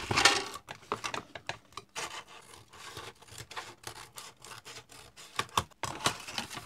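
Edges of a parchment-paper notebook and pouch are trimmed down, making quiet, close, irregular rasping and scraping strokes in short bursts with brief pauses between them.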